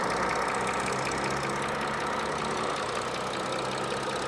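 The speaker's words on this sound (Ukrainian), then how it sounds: "Двигун працює бездоганно." An Audi A6 Allroad 55 TDI diesel engine idles close by, a continuous rough, clattering hum that stays level throughout.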